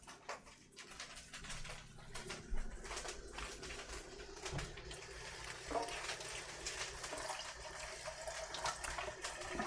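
A bunch of greens rinsed under running tap water at a sink, a continuous splashing flow with irregular spatters and knocks, fairly quiet and close.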